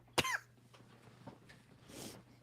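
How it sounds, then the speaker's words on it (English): One sharp, close cough opens the scene, then quieter rasping breaths and a faint throat noise follow over a low steady hum. "Coughed up a lung, as they say."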